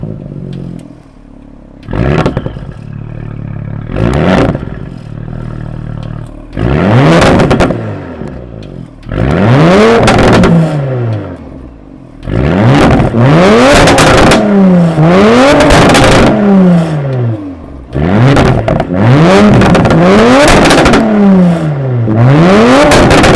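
A 2019 Audi RS5 Sportback's 2.9-liter twin-turbo V6 with a Milltek Sport exhaust, heard from behind the car: a cold start followed by a series of sharp, loud revs rising and falling, growing longer and more aggressive, with crackles between blips.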